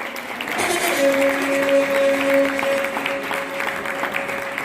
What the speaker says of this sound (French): Voici, sous vos applaudissements, Ange Freddy.